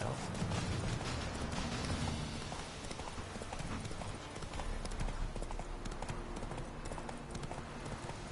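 Rapid, rhythmic clip-clop of horse hooves galloping in The Witcher 3, steady and close, over a busy game soundscape.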